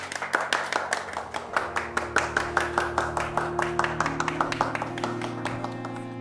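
An audience claps steadily after a children's theatre performance at a festival in Kotor, a dense even run of applause with a low sustained musical tone humming underneath.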